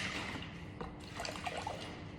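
Coconut water is poured into a container for a homemade raspberry soda, heard as a faint, short trickle and splash of liquid with small drips, quiet and close with no talking.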